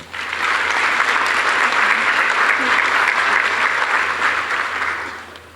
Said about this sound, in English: if we could just give all of these recipients a round of applause